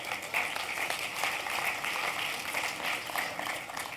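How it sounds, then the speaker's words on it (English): Audience clapping at a 2010 PCRI conference session, a steady, even patter of many hands that continues at moderate loudness throughout with no talk over it. "Well, don't clap for him yet."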